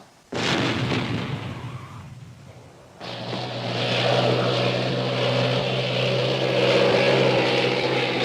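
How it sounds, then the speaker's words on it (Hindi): Indian Air Force aircraft flying overhead in a salute, with a loud rushing engine roar that starts abruptly, eases off, then returns and builds into a sustained drone. "उधर इंडियन एयरफोर्स ने जय की हवाई सलामी अदा की।"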